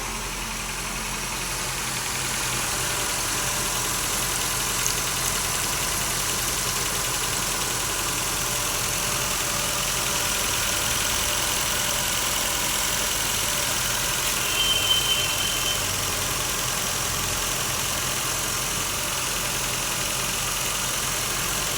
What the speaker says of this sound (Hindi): ओके, गाड़ी स्टार्ट हो गई है।